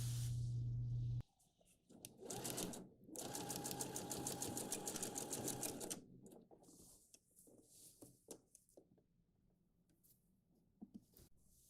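A sewing machine runs in a steady, rapid burst of stitching for about three seconds while sewing fabric for a child's shirt. A shorter whirr comes first, and quieter handling clicks and rustles follow.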